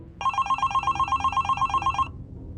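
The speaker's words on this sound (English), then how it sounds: "when the phone rang" A telephone rings with a rapid electronic bell trill, a steady pulsing burst lasting about two seconds before cutting off, loud and close in a quiet hotel room.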